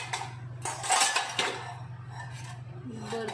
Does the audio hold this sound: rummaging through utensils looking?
yes